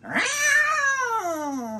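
A storyteller's voice imitates an angry cat yowling: one drawn-out, loud, close caterwaul that rises, holds and slides down over about two seconds, with no other talk.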